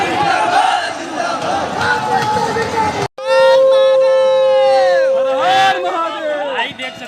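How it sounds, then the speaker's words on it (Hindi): Large crowd of protesters in Prayagraj celebrating a resignation, loud massed shouting and chanting voices close by, with a brief break midway before the roar resumes. "भाई देख सकते हैं भयानक भीड़ है"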